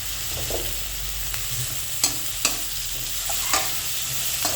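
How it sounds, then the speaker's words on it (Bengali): Tomatoes sautéing in a nonstick pan give a steady close sizzle, broken by occasional sharp scrapes and taps of a spoon stirring, with no voices. "টমেটোগুলো ভালো করে সিদ্ধ হওয়া পর্যন্ত আমরা একটু ভালো করে ওগুলোকে কি কষিয়ে নিব"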